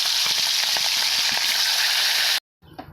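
A salted fish head fries in hot oil, giving a loud, close, continuous sizzle with crackling spits that runs steadily and then stops abruptly, followed by a brief quieter burst.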